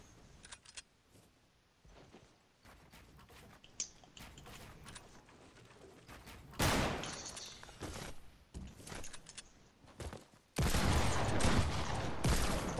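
Gunfire from a Surge 1v1 video game match: scattered sharp transient shots with louder bursts toward the middle and a dense, loud volley near the end.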